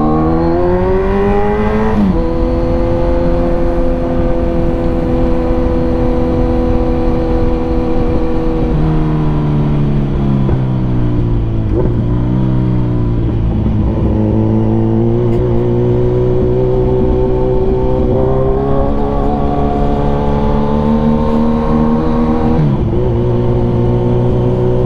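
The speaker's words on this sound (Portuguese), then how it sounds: "Escape tá rebelde hoje, hein?" Kawasaki Ninja 1000 motorcycle exhaust revving continuously, close and loud, with rising and falling engine pitch and a steady harmonic drone, heard alone without talk.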